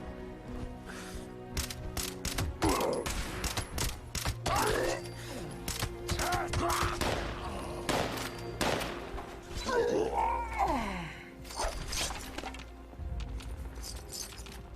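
Gunfire in Fallout 76: sharp, loud shots fired in irregular bursts and single cracks, with thuds and impact noises in between.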